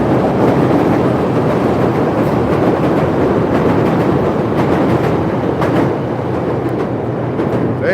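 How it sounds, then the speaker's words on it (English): Chicago CTA Green Line elevated train rolling past near Monroe and Wabash in the Loop, a loud continuous rumble with rhythmic clattering of wheels on the tracks, close by and easing slightly toward the end. "we're going to get the train coming by. Here you go. Here's the CTA Green Line."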